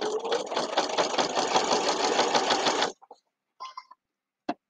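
Sewing machine stitching a quilted potholder, heard as a loud, close, steady mechanical whir that runs for about three seconds. It then stops, leaving a few faint fabric rustles.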